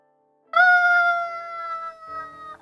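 A cat in an animated RWBY Volume 9 episode gives one clear, loud, drawn-out meow that slowly falls and fades, alone over silence.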